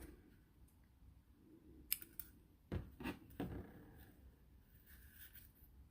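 Scissors snip through crochet yarn at the end of a slip-stitched round, a few crisp close cuts clustered mid-clip over a quiet room.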